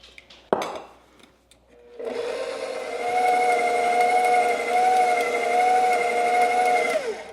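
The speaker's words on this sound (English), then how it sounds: "Hear how the mixer sounds a little bit different?" Stand mixer running with king cake dough as flour is added, a steady close electric motor whine with a strong sustained hum starting after a soft clunk, pitch dropping slightly at the end as it slows.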